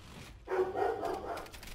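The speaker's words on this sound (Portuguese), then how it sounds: "mesmo se meu cachorro ficar latindo" A pet dog barks in a short burst from about midway, a loud, harmonic yap that trails into a sustained whine-like bark, close to the mic, with quiet room noise around it.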